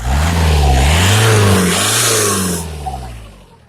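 A VW Golf 4 Variant 1.9 TDI 115 hp diesel engine revs up under acceleration with a suspect engine noise, a loud, close, steady drone that rises and holds, then tapers off near the end.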